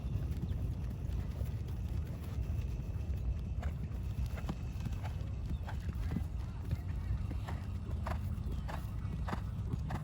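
Horse hooves clip-clopping in a steady rhythm during a riding lesson, moderately close under low wind-like rumble, with faint speech in the background.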